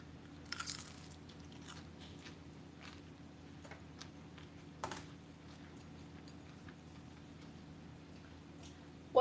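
Someone bites into a baked fry made from the original recipe, a couple of faint crunches and soft chewing clicks against a quiet, humming kitchen background.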